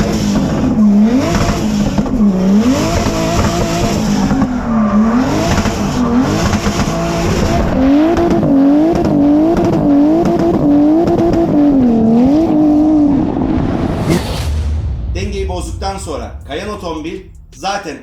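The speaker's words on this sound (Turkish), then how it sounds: "Bu hareketi yaptıktan sonra el freni bırakarak gaza oturur ve otomobilin artık traksiyon alarak kontrollü bir şekilde drifte başlatırsınız" Car drifting with its tires squealing after a handbrake pull, the engine revving loudly in repeated rising and falling surges, followed by a harsher burst of squeal and engine noise near the end, with someone speaking over it.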